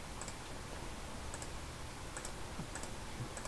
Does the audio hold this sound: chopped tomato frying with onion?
no